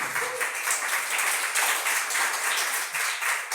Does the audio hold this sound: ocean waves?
no